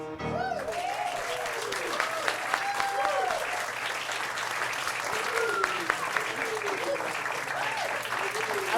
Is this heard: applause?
yes